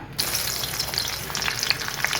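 Brinjal dropped into hot oil in a pan breaks into a sudden, loud, close sizzle that keeps crackling and popping steadily throughout, with no voices.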